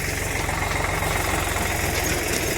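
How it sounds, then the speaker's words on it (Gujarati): A tractor engine runs close by with a steady, throbbing low chug that stays even and unbroken throughout. "તો હવે આપણે ટ્રેક્ટર આવે છે"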